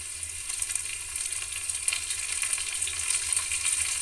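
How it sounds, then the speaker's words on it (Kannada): Chopped tomato going into onions already fried in a pan for a hotel-style potato palya, a steady close sizzle and crackle of hot oil with faint stirring scrapes. "ಇವಾಗ ಈರುಳ್ಳಿ ಫ್ರೈ ಆಗಿದೆ. ನಾನು ಇದಕ್ಕೆ ಇವಾಗ ಟೊಮೆಟೊ ಹಾಕ್ತಾಯಿದ್ದೀನಿ."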